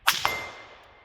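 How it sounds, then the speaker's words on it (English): Rifle bullet striking a steel gong target, fired from a Wolf A1 gas piston upper (T91 clone): a sharp distant metallic clang, with a second quick ring, fading into a short shimmering decay. "I'm just going to go for steel this time. Go for the gong up there."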